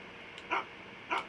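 Two sharp barks come from a dog in a gold mining simulation game, spaced roughly a second apart. They are crisp and close against a faint ambient hum.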